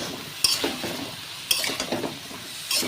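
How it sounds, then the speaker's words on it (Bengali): Mixed vegetables for a vegetarian Bengali dish are stirred in a pan with a soft sizzle, a spatula scraping and knocking against the metal in three sharp strokes, close and alone. "সব সবজিগুলো দিয়ে দিয়েছি।"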